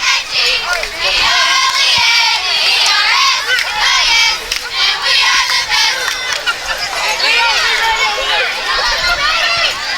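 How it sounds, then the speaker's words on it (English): A crowd at a 2012 Vardaman vs Coldwater high school homecoming football game keeps up a loud, steady roar of shouting and high cheering, with cheerleaders rallying the stands and voices blending into a continuous wash. "Cheerleaders trying to get the crowd to stay pumped up as their team has fought back into this game and tied it up."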